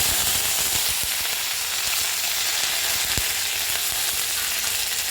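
Curry leaves dropped into hot oil with mustard seeds and toasted fenugreek over a low flame, giving a steady, dense, close sizzle and crackle that never lets up, with occasional sharper pops.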